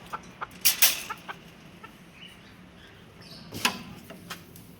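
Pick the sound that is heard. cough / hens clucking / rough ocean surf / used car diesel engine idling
hens clucking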